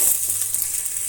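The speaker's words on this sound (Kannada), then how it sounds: "ಈಗ ಅದರ ಜೊತೆಗೆ ಈರುಳ್ಳಿ ನಾವು ಕಟ್ ಮಾಡಿರೋದನ್ನು ಹಾಕ್ಕೊಂಬಿಡೋಣ" Chopped onions hit hot oil in a pan with a steady, bright sizzle that holds evenly close up throughout, no voices.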